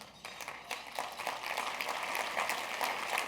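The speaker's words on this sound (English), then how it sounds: "That deserves a round of applause." Crowd applause at a keynote speech event, a continuous crackle of many hands clapping at moderate distance, rising slightly and holding steady throughout with no voices.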